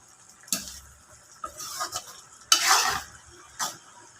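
Moringa leaves go into a simmering coconut milk dish, ginataang malunggay with daing na bisugo, with a few separate stirring and spoon-against-pot clatters over a soft bubbling background.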